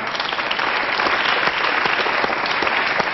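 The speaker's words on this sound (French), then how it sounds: "Bravo, on applaudit Philippe Guérin" A studio audience at a French television interview bursts into sustained applause for a guest, a thick, steady roar of clapping heard close and loud without a break.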